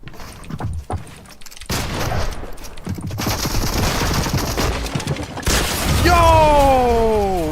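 Rapid gunfire bursts in Fortnite, with a golden pump shotgun among the weapons, loud and dense across most of the stretch, ending in a rising-falling tonal sweep.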